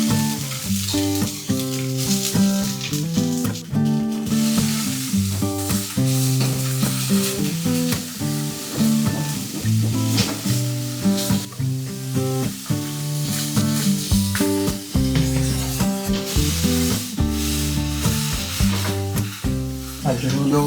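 Mung bean sprouts stir-fried for Kanto-style fried noodles, a steady sizzle and crackle in the pan, largely masked by loud, rhythmic background music throughout.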